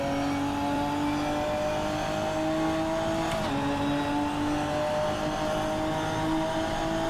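Ginetta GT4 SuperCup 2017 race car engine in Assetto Corsa, droning steadily at high revs with a brief gearshift dip partway through, then pulling again, continuous and close with no talk.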